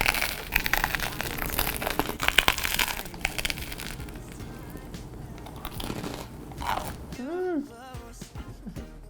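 Crunchy bites of a kimchi tuna melt grilled cheese sandwich, a run of crisp crackles and chewing over background music, with a few sharper crunches near the start.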